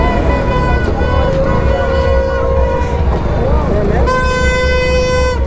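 A sustained vehicle horn blares over busy traffic noise, dropping briefly and then sounding again loudly, with voices mixed in the background.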